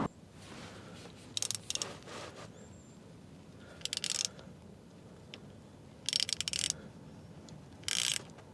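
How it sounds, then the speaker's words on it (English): A helicoil tap cuts threads into a drilled hole on a drag-racing station wagon, giving short, faint ratcheting bursts of clicking separated by quiet pauses. "now we're just gonna run our helicoil tap through it"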